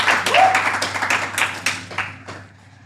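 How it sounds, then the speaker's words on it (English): An audience at a comedy show claps, a brief burst of scattered applause close by that fades out over a few seconds, with no talking over it. "give yourselves a round of applause"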